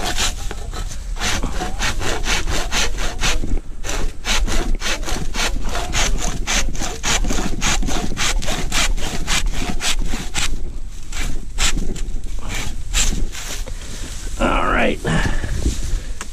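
Hand saw cutting through a large bamboo pole, a fast, even run of rasping back-and-forth strokes close by and loud, with a brief pause near the end and a few spoken words mixed in.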